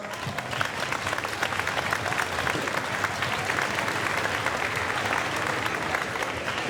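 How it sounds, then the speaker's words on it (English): An audience at a school band concert applauds school principals, a steady sustained round of clapping filling a hall, moderately loud and even throughout. "Let's give them a huge round of applause."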